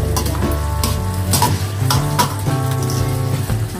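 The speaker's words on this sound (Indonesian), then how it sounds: "Maaf suaranya agak gaduh karena sebelah goreng ikan ya" Fish frying in hot oil in a pan nearby gives a loud, steady sizzle with crackling pops and scraping stirs, no voices over it.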